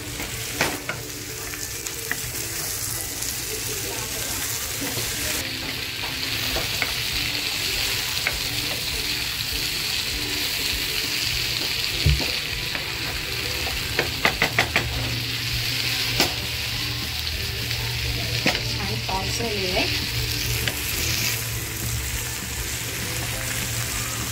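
Capsicum and mixed vegetables for vegetable manchurian stir-fry in a pan, a steady close sizzle running throughout with occasional scraping and clinking of a spatula against the pan.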